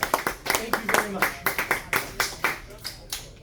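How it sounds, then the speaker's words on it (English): A live stage show audience at the Groove in Toronto claps in a steady, uneven patter of individual hand claps, close and moderately loud, fading in and out over a few seconds. "What I love about that part is I love the applause, so thank you on that."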